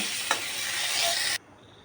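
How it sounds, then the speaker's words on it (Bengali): Pointed gourd (potol) frying in a pan gives a bright, steady sizzle with a brief scraping stir near the start, then cuts off abruptly. "এভাবে করে পটলটা একটু ভেজে নেব পটলটা একটু কালার চলে আসবে"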